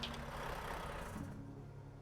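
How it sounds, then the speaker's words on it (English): A truck engine in American Truck Simulator runs with a low, even rumble that eases off slightly toward the end. "That is a good sounding engine."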